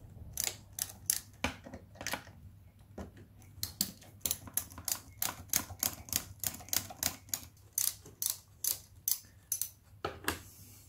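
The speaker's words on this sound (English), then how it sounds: "to get our triples off, we need to undo our top four pinch bolts" Rapid ratcheting clicks come from undoing the top pinch bolts on a Yamaha T7 top triple clamp. The crisp, close clicks repeat in quick rhythmic runs with short pauses between them.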